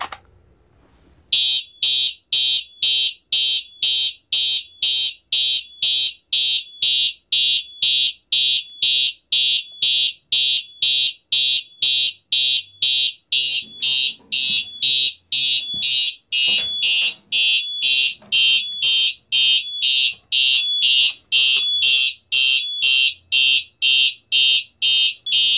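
Fire alarm system sounding after a pull station is activated during a floor system test, a loud, rapid, evenly pulsing electronic horn that repeats steadily and dominates the whole stretch.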